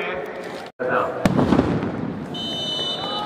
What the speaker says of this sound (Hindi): अभी आतिशबाजी से हमारे पटाखा अग्नि महोदय है, जब भी गोल होता है तब ये अपनी कला दिखाते हैं।